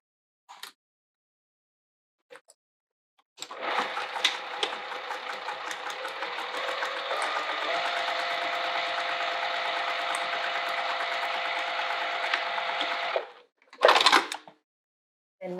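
A sewing machine stitches straight across a small fabric wallet held with clips, running steadily for about ten seconds in one continuous buzzing burst, with a few handling clicks and knocks before and after.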